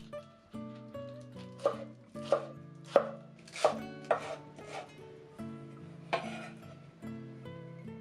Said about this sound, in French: Puis on revient à la partie verte que l'on coupe en fines rondelles.